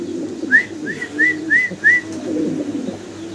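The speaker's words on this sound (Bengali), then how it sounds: "রেড কালারের এক জোড়া বোম্বাই কবুতর একদম জোড়া বাচ্চা সহ আপনারা দেখতে পারতেছেন" A pair of red Bombay pigeons with their two squabs: five quick rising peeps sound close by over a steady low cooing and rumbling in the loft, with no voices.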